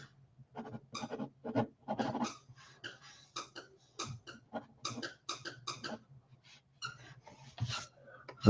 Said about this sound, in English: That's my dog in the background playing with a squeak toy